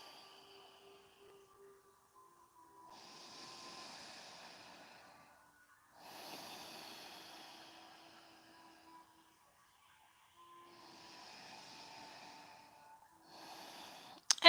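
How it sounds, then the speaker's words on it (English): Slow, deep yoga breaths, long inhales and exhales drawn in and out through the nose, soft and close in a quiet room, each lasting several seconds with gentle pauses between. "just breathe. Long, deep inhales and exhales."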